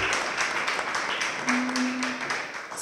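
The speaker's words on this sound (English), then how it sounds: "So let's give them a clap." Crowd at a brewery media event in downtown Lynchburg claps, a fairly light, scattered round of applause close by, with a brief voice sounding midway.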